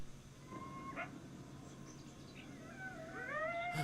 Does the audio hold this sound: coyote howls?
yes